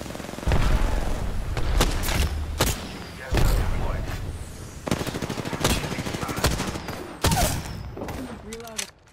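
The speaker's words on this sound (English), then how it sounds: "Firing on subjects." Rapid automatic gunfire bursts from an Apex Legends match, loud, close bursts separated by short pauses, with a voice speaking between volleys.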